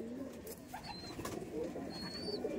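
Red Madrasi pigeons coo softly in a home loft, low murmuring calls layered with a few higher whistling notes against a faint ambient hum.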